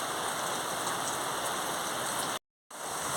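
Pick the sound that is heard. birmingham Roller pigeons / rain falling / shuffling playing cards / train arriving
rain falling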